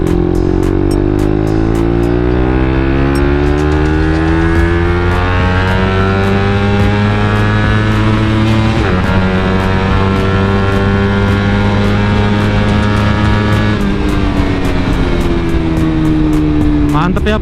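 A Suzuki GSX-R150 motorcycle fitted with an RGR clutch lining screams at high rpm, its loud engine note climbing steeply through successive gears with brief dips at each shift.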